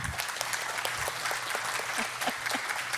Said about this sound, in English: So let's give Professor Mycoo another round of applause, please.